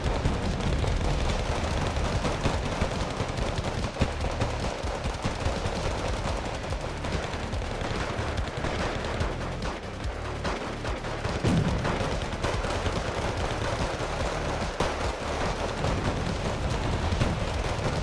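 Automatic weapons keep up continuous heavy fire in a wargame battle. Dense overlapping bursts of gunfire and booming impacts fill the whole stretch at a loud, steady level with no break.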